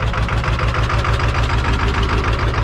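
Ford-style 7.3 diesel idling just after a cold start with no exhaust, only a downpipe, a loud, close, steady rapid knocking clatter with even rhythmic pulses throughout.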